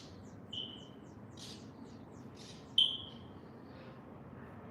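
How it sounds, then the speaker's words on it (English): Small birds chirp outdoors in the distance, a few thin, high tweets and a couple of brighter calls over a faint steady background hum. "You guys hear those birds?"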